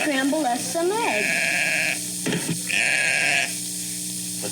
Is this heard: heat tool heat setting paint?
no